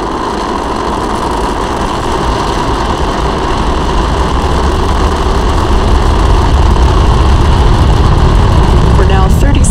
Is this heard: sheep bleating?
no